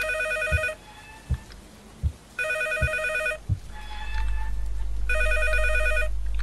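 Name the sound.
telephone bell ringing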